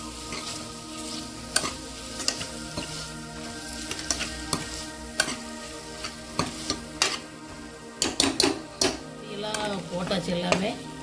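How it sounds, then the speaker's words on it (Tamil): Tomatoes sauté with garam masala and turmeric for a millet biryani, a steady sizzle and frying hiss under repeated scraping and clattering stirs of a spoon against the pan, close up. "இதெல்லாம் போட்டு கொஞ்சம் நேரம் வதக்கிக்கலாம்,"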